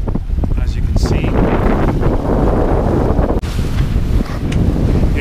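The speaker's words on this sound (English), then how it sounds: "It's very windy here." Strong wind roaring across the microphone while sailing off the coast in about 20 knots, a loud continuous buffeting rush with waves and boat noise beneath and a voice speaking.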